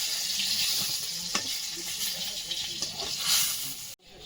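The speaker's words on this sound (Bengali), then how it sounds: "বেগুনগুলো ভেজে নেব। ভাজা হয়েছে, সুন্দর সোনালী রং ধরে।" Eggplant pieces fry in hot oil with a steady, close sizzle and hiss, broken by a few sharp pops and crackles before the sound cuts off abruptly near the end.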